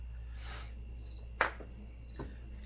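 Crickets chirp quietly in a still, otherwise silent night, with a couple of brief faint rustles.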